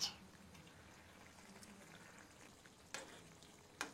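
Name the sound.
fish added to frying pan, sizzling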